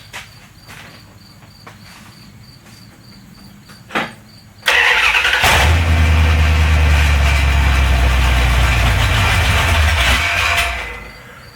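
A 1974 Dodge Charger's 360 roller-cam V8, fitted with straight Headman headers and no mufflers, is cranked and fires into a loud, raw, steady idle that runs for several seconds before dropping off. Crickets chirp in the background beforehand.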